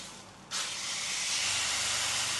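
Steak searing in a hot pan right after flipping, a sudden loud sizzle bursting in and holding as a steady, bright hiss close by, with no talking.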